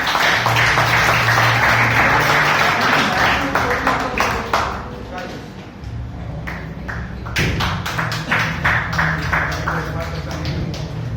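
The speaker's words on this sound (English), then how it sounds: "let's have a big round of applause for all the speakers" A large crowd at a Toastmasters meeting applauds steadily, many hands clapping in a dense, sustained wash that swells and fades slightly before picking up again.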